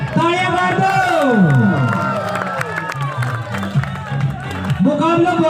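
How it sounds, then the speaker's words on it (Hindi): Spectators at a village kabaddi match clap and cheer loudly, with whoops and shouting voices layered over continuous crowd noise, close and energetic throughout. "तालियां मार दो।"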